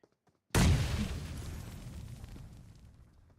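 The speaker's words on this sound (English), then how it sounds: "That was a beautiful grenade by Sucker." A grenade blast in the PUBG Mobile battle game, a sudden loud boom after a near-silent moment, followed by a long rumbling decay that fades over several seconds.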